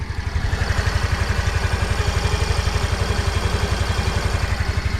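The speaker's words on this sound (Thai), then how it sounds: "เดี๋ยวจะมาให้ฟังเสียง รอบเครื่องยนต์ที่สูงๆกันนะครับ" A 2021 Yamaha Grand Filano Hybrid motor scooter engine runs steadily at close range, a low rhythmic putter with an even pulse throughout, no voices.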